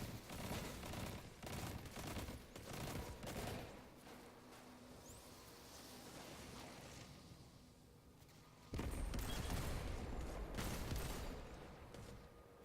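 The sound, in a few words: gunfire in Destiny video game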